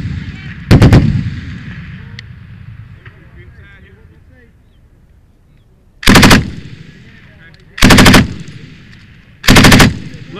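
M249 machine gun firing on a range, four short loud bursts of rapid automatic fire, one early then three evenly spaced near the end, with a voice heard quietly between bursts.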